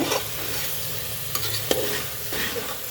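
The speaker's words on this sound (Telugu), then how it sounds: "ఇప్పుడు ఇది బాగా కలపాలి." Vegetable soup being stirred in a pot, a steady scraping and swishing with a soft sizzle underneath and a few sharper clinks of the spoon against the pot, close and continuous.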